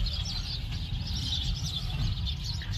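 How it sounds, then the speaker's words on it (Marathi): Sparrows chirp among potted plants, including a curry leaf tree in bud, at an outdoor spot of an old-age home, their twittering a faint, steady high texture over a low rumbling background, with no talking. "चिमण्यांचा किलबिलाट."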